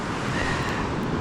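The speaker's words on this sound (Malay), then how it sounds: "Ombak padu hari ni geng, nampak tu" Strong ocean waves on a beach after rain, roaring continuously close by as a steady broadband wash mixed with wind buffeting, no voices.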